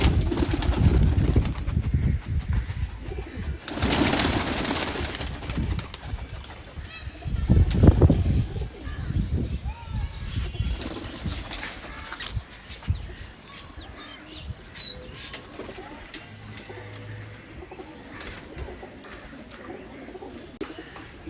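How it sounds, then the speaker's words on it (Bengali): A pair of young domestic pigeons coo in low, throaty bursts, the strongest early on and then fading into quieter, scattered calls over a long stretch of background noise. "একজোড়া আমার বাড়ির টিটি কবুতরের বাচ্চা"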